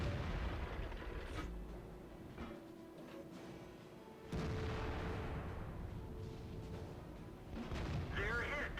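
Artillery fire in the World of Tanks game: booming shots and rumbling impacts in a dense, continuous battle mix, with a heavier blast partway through and more bursts near the end.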